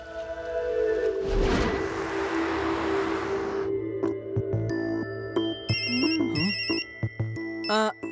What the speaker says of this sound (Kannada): ನಾನೀಗ ಶಿವನಿಗೆ ಫೋನ್ ಮಾಡ್ತೀನಿ.